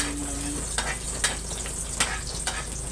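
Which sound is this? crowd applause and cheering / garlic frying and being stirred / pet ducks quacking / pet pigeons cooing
garlic frying and being stirred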